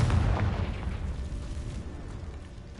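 A Confringo blasting spell exploding in a wizard video game, a deep booming blast at the start that rumbles and fades slowly into a low, lingering roar.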